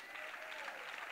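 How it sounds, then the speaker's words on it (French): A church congregation cheers and applauds for Jesus, a dense, steady wash of clapping and crowd noise heard alone at a moderate distance. "Est-ce qu'on peut acclamer Jésus?"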